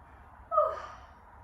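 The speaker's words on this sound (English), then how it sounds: "Breathing." A single sharp, heavy breath during a floor-based yoga stretch, close and fairly quiet, rising suddenly and then trailing off over a low steady background.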